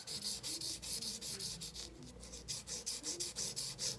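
Fine-grit sandpaper rubs over the frets of a Fender Stratocaster getting jumbo frets, a quiet rhythmic back-and-forth rasp of quick strokes close by and alone.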